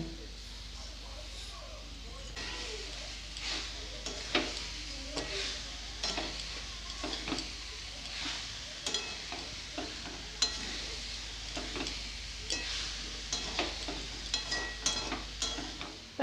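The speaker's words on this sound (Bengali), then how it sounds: "ভালো করে নাড়াচাড়া করে পুরটা বানিয়ে নিতে হবে।" A coconut and sugar filling for dudh puli is stirred in a wok, a spatula scraping in repeated strokes over a soft sizzle, with some faint talking in the background.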